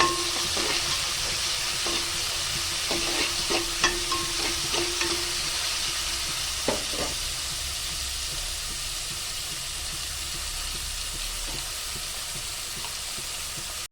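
Onion and ingredients sautéing in a pan for mutton curry, a steady soft sizzle with scattered scraping clicks of stirring early on that fade into a continuous hiss.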